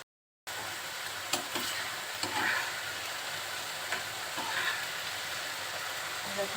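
Prawn curry simmers and sizzles softly in an uncovered pan, a quiet continuous bubbling with a few faint stirring clicks, no talk.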